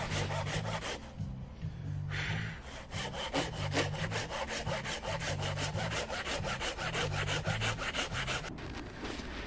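Hand saw cutting through wood for a shelf bracket, steady back-and-forth strokes in a regular rhythm, close and clear, with no talk.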